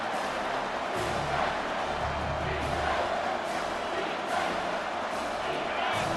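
Video game stadium crowd in EA College Football 25 on PS5, a steady, full roar of cheering fans that holds evenly throughout with no breaks.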